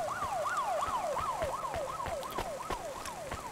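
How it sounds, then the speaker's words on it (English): A wailing siren from a futuristic video game city sweeps up and down in a steady repeating cycle, heard over a continuous hum of city traffic and rain. "The sirens remind me a lot of Seattle."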